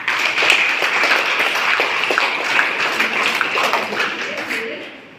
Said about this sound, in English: So we can clap for both of them.